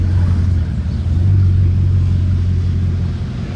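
A Bugatti Chiron's engine rumbles deep and loud nearby on a Monaco street, a steady low growl that swells slightly mid-way before settling, with no talking over it.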